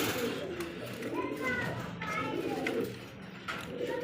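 American fantail pigeons at a pigeon farm coo in a low, repeated murmur, with birdcalls and children's voices mixed in close by and people talking over them.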